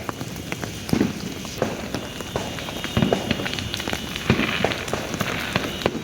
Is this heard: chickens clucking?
no